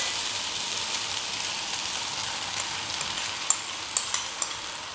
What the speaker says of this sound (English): I'm just going to fry that for about 2 to 3 minutes